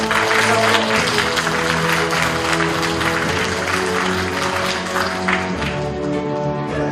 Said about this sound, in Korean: 두 분 박수로 부탁드립니다